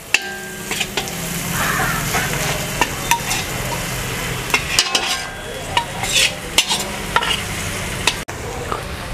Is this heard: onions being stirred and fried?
yes